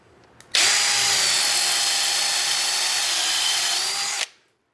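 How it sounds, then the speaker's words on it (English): A Forstner bit bores into wood, driven by a Ryobi drill on an aftermarket CEENR battery: a loud, steady motor whine that starts abruptly, holds for about four seconds, then winds down. "let's try our Forstner bit. This should be a little bit more of a test for us with our Ryobi battery"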